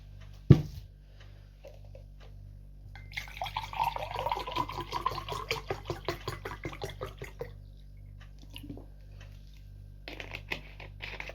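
Tap water runs into a container to fill about two litres, a sharp knock then a steady trickling stream that stops and gives way to a few drips and clinks, no talk.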